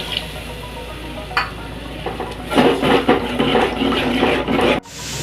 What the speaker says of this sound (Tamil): 500 மில்லி தண்ணி ஊற்றி